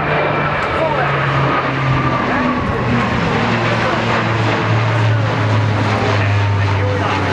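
A C-27J Spartan twin-turboprop military transport flies an aileron roll at the RIAT 2011 airshow, its engines a loud, continuous droning roar with shifting pitch, heard from the ground without talk.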